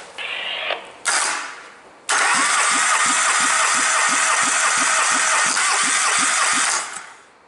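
A 1.5-litre QG15DE petrol engine from a 2004 Nissan Almera cranks on the starter during a compression test, a steady rhythmic churning with regular pulses lasting several seconds after two brief earlier bursts.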